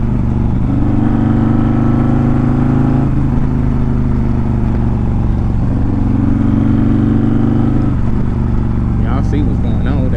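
A built Harley-Davidson CVO motorcycle idles loud and close with a deep, steady rumble, its engine note rising and falling through several throttle blips with no clear launch.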